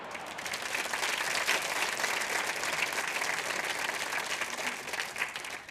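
Dense, steady applause from a large crowd after a long jump attempt, loud and unbroken for several seconds with no voices standing out.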